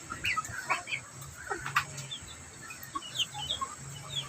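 Soft clucks and short calls from a Chinese chicken on a small backyard chicken farm, intermittent and fairly quiet, with other birds chirping faintly in the background.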